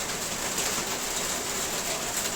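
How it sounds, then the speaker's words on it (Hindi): Heavy rain falling outside during a monsoon downpour, a dense, even hiss that stays constant throughout, with no voices. "ज़बरदस्त बारिश हो रही है"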